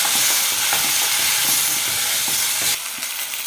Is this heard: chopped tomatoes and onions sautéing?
yes